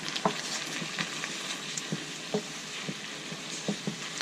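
Wine cooking off in a pan of beef picadillo, a soft continuous sizzle with scattered pops and light stirring taps spread across the stretch.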